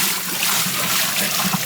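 Fresh water pours into a pot of Kerala tapioca mutton curry, a continuous splashing, trickling rush heard up close and fairly loud.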